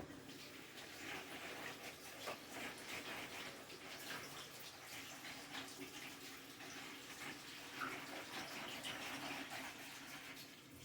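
Potatoes being rinsed under a running tap in a kitchen sink, a faint, steady splashing rush of water with small irregular clatters, continuous throughout and with no talk.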